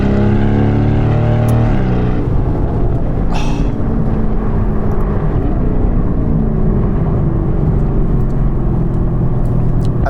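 Deep, loud V8 rumble from a Novitec-tuned Lamborghini Urus SE SUV, a steady throaty drone that shifts pitch partway through, with a brief burst of hiss near the start.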